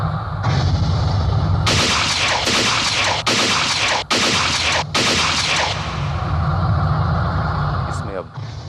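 A pistol fires a rapid string of sharp, loud shots close together, while people talk over a low background rumble.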